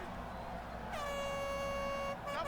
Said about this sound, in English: someone with an air horn there.